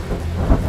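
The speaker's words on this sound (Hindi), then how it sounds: "बहुत बारिश हो रही है" A low rumble of thunder over the hiss of heavy rain, brief and fairly loud.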